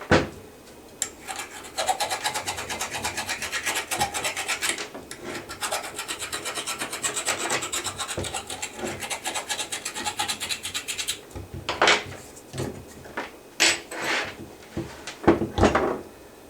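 Sandpaper rubbed against the motor bushing of a fifty-year-old box fan, a loud, close, continuous rasping scrub, then scattered bumps and scrapes.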